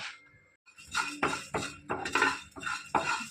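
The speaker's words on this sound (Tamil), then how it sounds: "காம்பு இல்லாத காஞ்ச மிளகாய் நல்லா மிதமான தீயில் இந்த மிளகாவை நல்லா செவந்து வர அளவுக்கு நல்லா வறுத்துக்கணும்" Dried red chillies with stems removed are stirred and roasted in a pan over medium heat: a rapid run of rhythmic scraping and clinking strokes of a spoon against metal, close and fairly loud.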